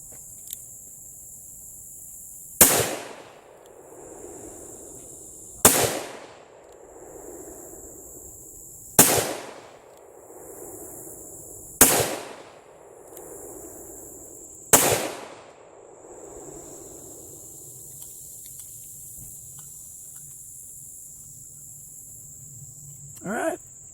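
Five sharp, evenly spaced shots from a .38 Special pistol loaded with shotgun powder, each loud crack followed by a fading echo, with several seconds of quiet outdoor background between them.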